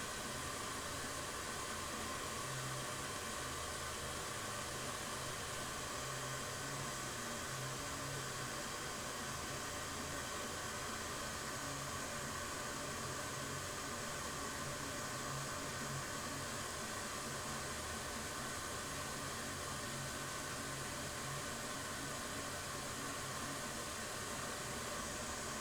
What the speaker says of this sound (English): right now I'm not even running the hairdryer on max output.